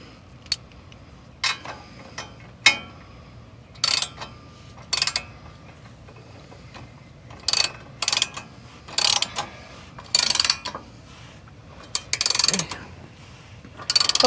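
Hand tools tightening bolts on lower control arm skid plates fitted to a Ford Bronco Badlands, heard as sharp ratcheting clicks in short irregular bursts with pauses between, close by, over a faint background hum.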